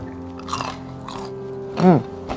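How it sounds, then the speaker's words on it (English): A bite into crunchy air-fried russet potato french fries dipped in ketchup, a single loud crisp crunch standing out near the end against a quiet background with faint voice. "You guys can hear The crunch is real."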